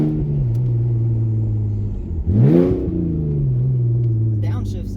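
A 2003 Audi A4 with a cut exhaust rumbles loudly and blips through a downshift, the engine note dipping and then rising sharply in a brief rev before settling back into a deep drone, close up.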